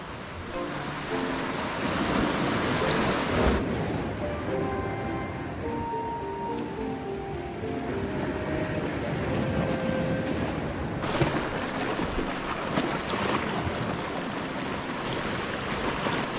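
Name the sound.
ocean waves and wind on a desert island shore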